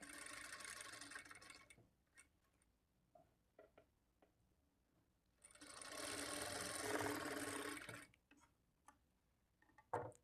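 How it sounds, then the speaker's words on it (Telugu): A sewing machine stitches the front piece of a blouse in two bursts of fast, rhythmic whirring, the second longer, separated by quiet handling clicks and ticks, close and fairly faint. "ఇక్కడ నుంచి స్టార్ట్ చేసుకొని ఈ మార్కింగ్ దగ్గరికి స్టిచ్ చేసుకోవాలి"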